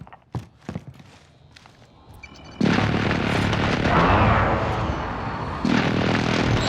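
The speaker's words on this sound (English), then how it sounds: "Be advised, friendly precision Airstrike inbound." Precision airstrike explosions in the video game Call of Duty: Warzone: a few sharp pops at the start, then a loud sustained roaring blast that holds for several seconds, with a second surge near the end.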